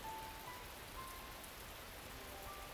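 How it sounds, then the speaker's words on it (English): Steady, dense rain pours down as a visual novel sound effect, a continuous even hiss of falling drops that fills the whole stretch without pause or voices. "But the rain, indifferent to our concerns, rapidly intensifies."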